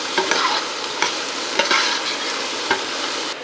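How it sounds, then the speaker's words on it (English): Chopped jalapeño and vegetables being stirred into a chili pot, with several distinct spoon scrapes over a soft, continuous sizzle, up close and without talk. "I'm just going to dump the rest of these veggies in. We're going to stir them in and let them get started too."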